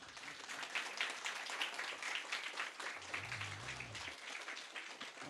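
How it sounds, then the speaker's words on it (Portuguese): An audience at a school event applauds the sign language (Libras) teacher with a steady, dense patter of clapping that holds at an even level for several seconds. "o professor de Libras, Ramon Cunha, a quem eu peço aplausos para ele."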